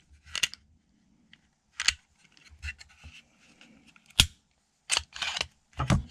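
A Glock 43X pistol is taken down by hand: a series of sharp metallic clicks, snaps and sliding clacks from the slide and parts, close and isolated, with quiet handling rustle between them.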